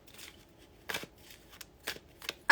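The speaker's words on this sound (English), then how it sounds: "as I was shuffling, we had a card pop out, Saphira." Tarot cards being shuffled by hand make a series of short, crisp riffling bursts separated by brief pauses, close and fairly loud, with no talking.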